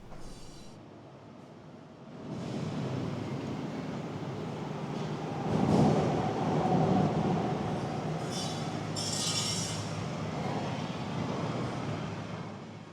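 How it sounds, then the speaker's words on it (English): A continuous low rumble inside a structure beneath a road on the Sanyo Electric Railway between Kobe and Himeji, with swelling surges as vehicles pass overhead, steady and loud throughout. "the whole structure is shaking and rumbling whenever vehicles go by"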